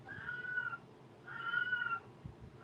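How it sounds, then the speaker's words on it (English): A house cat meows twice, two drawn-out plaintive cries about a second apart, fairly close in a quiet indoor room. "It's my idiotic cat."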